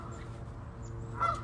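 Geese honk faintly outdoors at a backpacking campsite, a single brief call rising over low, steady background rumble.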